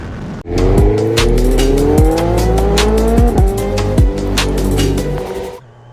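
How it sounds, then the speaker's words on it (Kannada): A used motorcycle pulling hard in first gear, its engine note climbing steadily and loudly for several seconds at close range with a couple of brief gear or throttle breaks, then cutting off, with no talk. "ಗಾಡಿ ಹೆಂಗೆ ನುಗ್ಗುತ್ತಂತ ಮಾತ್ರ ನೋಡಿ ಫಸ್ಟ್ ಗೇರಲ್ಲಿ."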